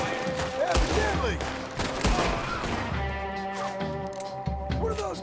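Gunfire in Red Dead Redemption 2, a loud burst of overlapping shots during a shootout, with game music and voices running under it.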